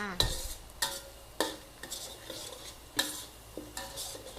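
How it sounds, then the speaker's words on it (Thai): Garlic being fried in oil in a pan, heard as a series of sharp scraping stirs and clinks of a utensil at a steady pace, with a faint sizzle underneath and no one speaking. "ใส่น้ำมันจ้า เอากระเทียมลงมาเจียวจ้า"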